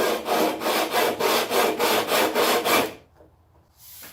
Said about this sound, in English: I'm going to use a hacksaw to do that